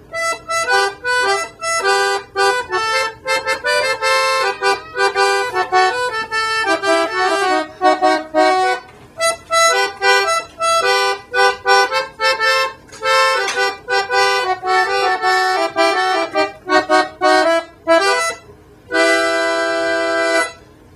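An accordion plays the melody of La Tarantella in close harmonized thirds, steady and fairly loud, with short gaps between phrases and a sustained chord near the end.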